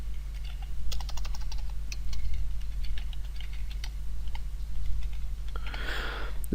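Computer keyboard typing while a password is entered, a quick run of light key clicks over a steady low hum, ending in a brief burst of noise.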